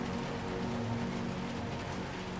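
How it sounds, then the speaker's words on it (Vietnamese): Rain in the video game Little Nightmares, a steady, dense hiss of falling water with no break or variation over a short stretch, no talk over it. "Mưa ướt hết người"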